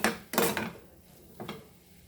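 A lid clanks onto a cooking pan of Goan sausage and prawn chilli fry, a sharp metallic clatter followed by a smaller second knock about a second later, close and without talk.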